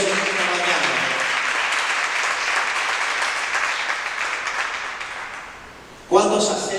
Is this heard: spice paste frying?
no